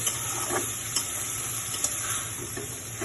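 Masala cooked down in oil in a pan for a fish biryani, giving a steady soft sizzle with a few light stirring clinks and scrapes, close and continuous, with no voices.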